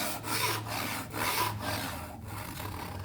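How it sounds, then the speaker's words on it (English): Rhythmic strokes of a hand saw cutting dovetail tails in a wooden board, close and fairly loud, with long even back-and-forth passes. "I can now focus on getting the tilt of the saw correct to do the rest of the dovetail."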